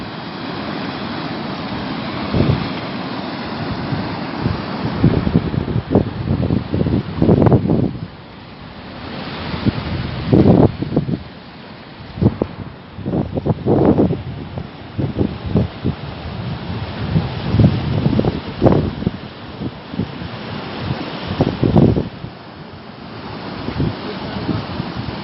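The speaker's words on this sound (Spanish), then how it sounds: "Ah, viene subiendo para acá el agua," Rising river water rushes during heavy rain in Turi, a steady loud broadband wash with wind gusts and irregular surging bursts throughout.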